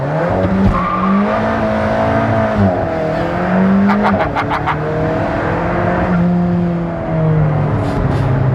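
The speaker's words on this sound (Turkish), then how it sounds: "Böyle bir launch kontrol oluyor." Alfa Romeo 4C with a 1.8 engine launches hard under launch control, engine roaring close and loud through rising and falling gear pulls, with brief tyre chirps.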